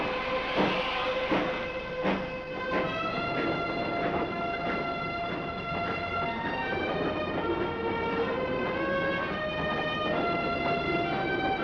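The Elizabethan express train departs: a steady rolling clatter of rail cars with a long sustained whistle-like tone rising over the rumble, loud and close.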